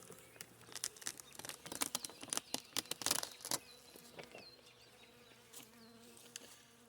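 Honeybees buzz around an opened hive during a brief spring inspection in the evening, a steady insect hum with louder close passes and soft knocks and handling noises, no talking.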